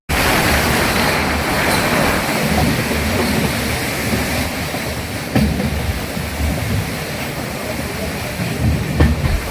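The Katihar Express rolls into a station in India with a loud, sustained rumble of wheels and carriages and faint rhythmic clatter, close by throughout.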